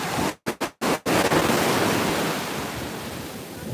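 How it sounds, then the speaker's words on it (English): Rough ocean surf breaking on a Florida beach, a steady loud wash of waves with wind buffeting the microphone in several brief dropouts early on, then continuous roaring surf. "You hear those waves?"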